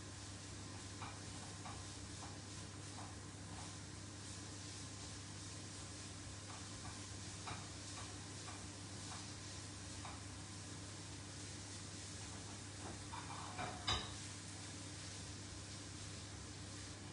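A potato cake browning in a pan cooked on a three-plate stove, giving a steady quiet sizzle and hiss with faint stirring ticks and one brief louder knock near the end.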